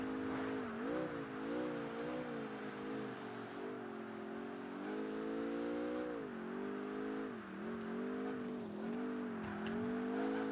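Racing car in Project Gotham Racing 3 on the Nurburgring, engine droning loudly and steadily with rising and falling revs as it speeds along, with occasional tire squeal and no talk.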